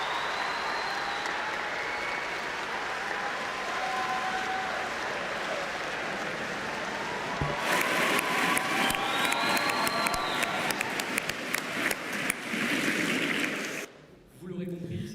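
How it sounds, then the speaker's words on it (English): Audience applause mixed with cheering and shouts fills a school celebration hall for a staff member, steady and dense, swelling louder midway before cutting off near the end. "So a round of applause for her"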